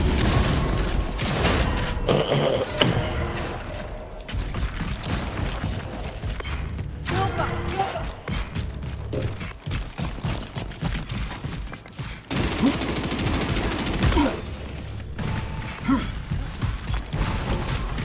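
Video game gunfire crackles in dense, rapid bursts that run almost without a break, loud and close, with a short voice callout over the shooting.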